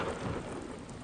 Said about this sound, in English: Especially when it is raining.